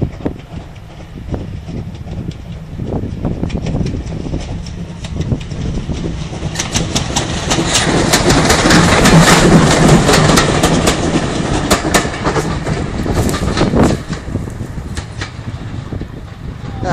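A steam train pulling a single carriage passes nearby, rhythmic chuffing and rail clatter building to a loud peak mid-pass and then easing off.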